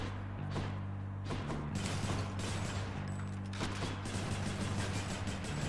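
Explosive bullets fire in rapid bursts in the video game Hades, a dense clatter of shots and small blasts over steady game music, loud and continuous.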